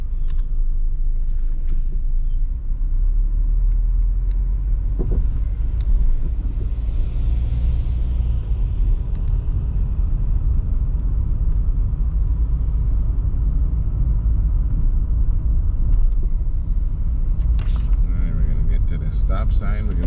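Car interior during a Florida driving test, with a steady low engine and road rumble that holds throughout as the car drives on, with occasional faint knocks.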